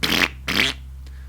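A voice mimics a double fart: two loud, buzzy blasts in quick succession, each about a quarter second long, with a faint trailing puff afterward.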